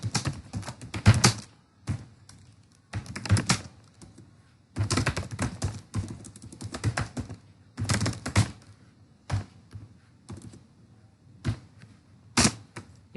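Fingers type a form description on a computer keyboard, with close, clicky bursts of rapid keystrokes separated by short pauses and scattered single taps.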